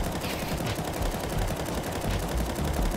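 Sustained automatic fire from an AK rifle in Counter-Strike 2, shot while moving, a loud continuous rattle of rapid shots lasting throughout with no pauses.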